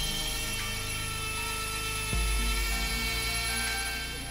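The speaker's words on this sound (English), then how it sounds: "I'm now using a cutting bit on the Dremel to cut in some of the panel lines" A Dremel rotary tool with a cutting bit whines steadily while cutting panel lines into a sculpture, a constant high motor drone up close with a sharp tonal shift halfway through as the bit bites in.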